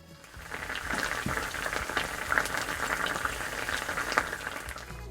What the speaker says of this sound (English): Now I'm putting the Italian salad dressing straight onto the frying pan, and then we'll heat that up.